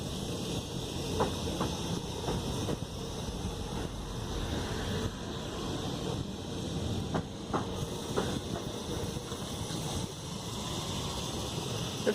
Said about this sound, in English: It sounds just the same going over these points as Blackpool number 2